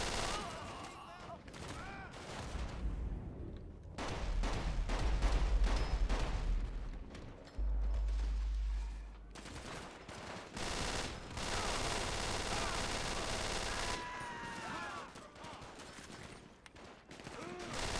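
Blind gunfire from cover in GTA V with a gang and turf mod during a jewel store heist, repeated loud bursts of automatic shots and deep booms, interspersed with someone talking.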